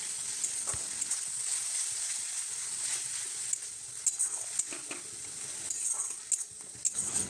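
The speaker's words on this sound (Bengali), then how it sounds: "তারপর মশলাটাকে ভালো করে কষিয়ে নিতে হবে।" Ground spice paste for egg curry frying in a pan while being stirred, a steady sizzle with occasional scraping stir strokes and light clinks, close and moderately quiet, with no talking.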